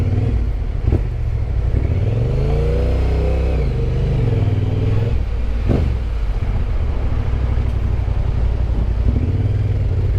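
A touring motorcycle in Malaysia, fresh from a new chain and tire, pulls away with a loud, close engine that revs and rises in pitch through the gears, with a few sharp clunks along the way.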